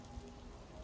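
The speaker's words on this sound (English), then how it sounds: "No, it's raining in game." Rain falling in a video game: a steady, very faint hiss of dense rainfall with soft patter, continuous and even throughout the short moment, with no voices.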